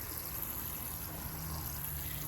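Water sprinkled over a potted Kalanchoe succulent with fleshy leaves, a steady soft shower-like hiss and trickle running continuously and fairly quietly, with no voices.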